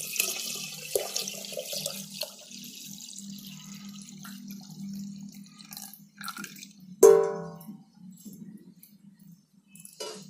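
One litre of boiled, cooled water pours into a pot for homemade grape wine, a splashing gush at first that thins to trickles and drips, with a single sharp clunk partway through.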